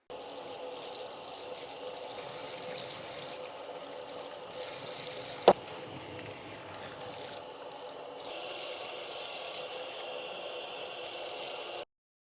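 Water runs steadily to rinse a very dirty bathtub after scrubbing, a continuous close splashing flow with one sharp knock partway through, ending abruptly.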